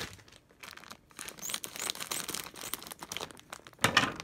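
Plastic junk bag of vintage toys snipped open with scissors and crinkled, close up: busy irregular rustling and crackling that swells and fades, ending in a louder burst of crinkling.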